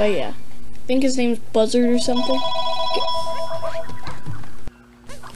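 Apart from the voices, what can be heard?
house telephone ringing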